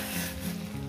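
Boiling water hits a hot pan of Bengali fish curry masala with potato and okra, giving a loud, brief sizzling hiss that stays dense and close throughout.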